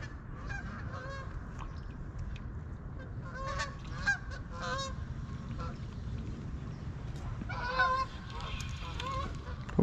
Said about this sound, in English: There's those Canadian geese.